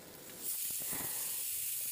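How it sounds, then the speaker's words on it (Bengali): A pressure cooker vents steam in a continuous soft hiss that rises after a brief quieter start and then holds steady at low volume, with no talking. "সিটি দিচ্ছে প্রেসারে"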